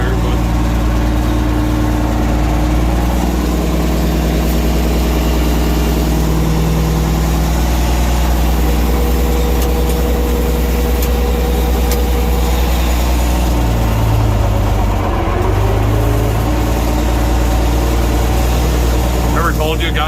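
A John Deere 5020 tractor engine idles loud and close with a steady low diesel drone and faint rattles, holding the same throbbing tone for the whole stretch while a person talks over it.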